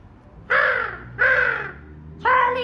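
A person imitates a crow with three loud, close, hoarse caws, each about half a second long and spaced by short pauses, with no other voices.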